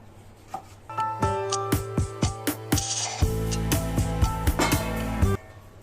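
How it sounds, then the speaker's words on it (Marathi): A knife scraping and tapping around the edges of khaman dhokla in a metal pan, a quick series of sharp ringing clicks over a steady background hum. "नाईफच्या मदतीने कडा सोडून घेऊया"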